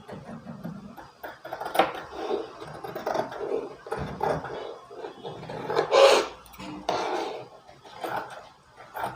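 Scissors cut through blouse fabric in a series of uneven snipping and rasping strokes, close by, with pauses between cuts and a sharper crunch near the end.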